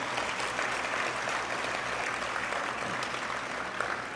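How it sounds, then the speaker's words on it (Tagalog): A church congregation gives a round of applause to God during a worship service, a dense, steady wash of clapping from many hands that holds at an even level throughout. "Sa pangahong palakpak para sa ating Diyos."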